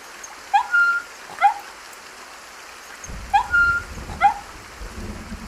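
Heavy rain falls with a low rumble of thunder deepening in the second half, while a puppy's high, plaintive whimpers cry out in short bursts over the downpour.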